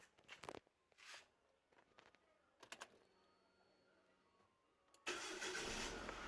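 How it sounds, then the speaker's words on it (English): A 2000 Hyundai Accent with mass airflow and oxygen sensor faults cranks and starts at about the five-second mark, its engine bursting into a loud, steady run after quieter clicks and taps. "Okay, just go and start the car and we'll see what is going on."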